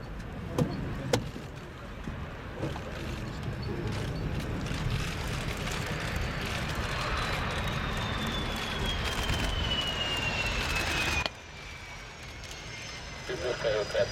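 A Saab JAS-39C Gripen of the Swedish Air Force lands on an RAF Fairford runway at an air show, a steady distant jet roar with a descending whine that cuts off sharply near the end, under faint commentary.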